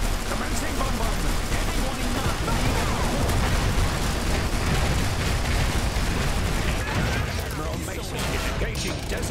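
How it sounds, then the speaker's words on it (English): Continuous, dense rumble of artillery bombardment in the Iron Harvest strategy game, with overlapping blasts and bursts filling the whole stretch at high loudness, alongside some game voice lines. "Commencing bombardment."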